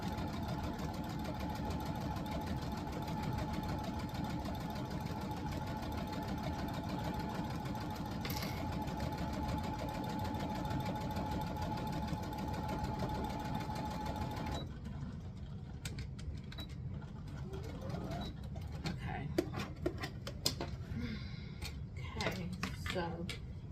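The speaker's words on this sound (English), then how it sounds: "Sew this up 5/8 of an inch seam allowance" A sewing machine runs steadily while sewing a 5/8 inch seam on a Simplicity 9136 pattern garment. It holds a continuous mechanical whir for about fifteen seconds, then stops, leaving quieter clicks and handling noises.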